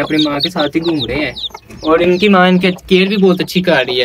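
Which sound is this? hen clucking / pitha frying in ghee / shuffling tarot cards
hen clucking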